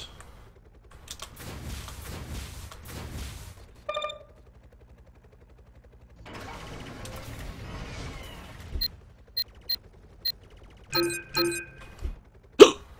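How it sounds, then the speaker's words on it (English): While someone plays the AirMech robot strategy game, several sharp hiccups come close to the microphone. They are spaced irregularly over the game's quiet clicks and effects, and no one talks. "Frickin' hiccups."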